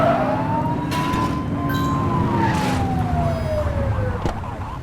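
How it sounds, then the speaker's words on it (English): A police car siren in the video game The Precinct wails loudly in a long rising and falling sweep over a steady engine rumble. "Get on their tail and flip the siren."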